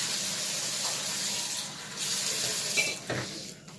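A kitchen tap runs water steadily for a few seconds while water is taken for making makrout, with small splashing changes near the end as hands pass under the stream.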